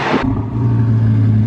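A twin turbo Audi R8 passes at a drag racing track, opening with a brief loud roaring burst that drops into a steady, droning engine hum close by.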